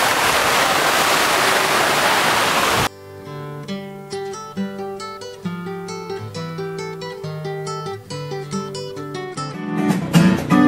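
A low-volume dry-season waterfall at Sri Gethuk near Yogyakarta, Indonesia, pours as a dense, steady rush for about three seconds before the sound cuts abruptly to music.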